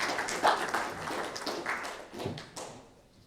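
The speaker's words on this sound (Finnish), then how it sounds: "sieltä tulikin jo spontaanit aplodit" A lecture audience breaks into spontaneous applause, a dense, steady patter of many hands clapping together for a few seconds and fading slightly at the end.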